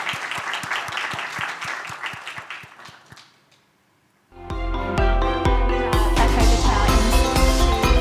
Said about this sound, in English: And I think another round of applause to thank yous.